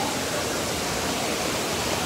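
Datanla waterfall in Da Lat, Vietnam, roars with a dense, steady rush of falling water, loud and close, continuous with no pauses or voices.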